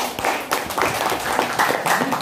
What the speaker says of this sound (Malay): Jadi kita tepuk tangan untuk beliau ya.